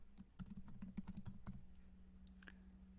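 Quick bursts of keys clattering on a computer keyboard, a run of rapid close taps that stops partway, leaving a low steady hum alone.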